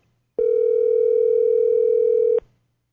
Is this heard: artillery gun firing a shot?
no